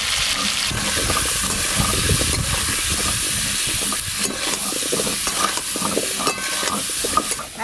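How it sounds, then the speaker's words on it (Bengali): Washed potatoes fry in mustard oil with a dense, steady sizzle and hiss, close and fairly loud. Scraping stirs and soft knocks break through now and then, with no voices. "সরষের তেল, ধুয়ে রাখা আলুগুলো বেশ লাল লাল করে ভেজে নেব।"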